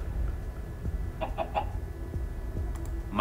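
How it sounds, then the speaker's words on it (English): A chicken clucks in Minecraft: Story Mode, a few short clucks in the middle over a steady low background hum, with no talking. "But that clucking thing is what we came for."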